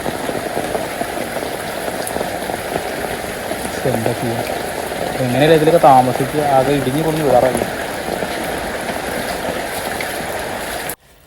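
Floodwater rushing across a submerged paddy field, a continuous loud wash of flowing water with someone talking over it throughout.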